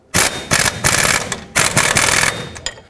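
A hand ratchet snugs the bottom front shock bolt on a 2007-14 Chevy Silverado, giving loud, close bursts of rapid clicking in four or five quick strokes with short pauses between, and no talk.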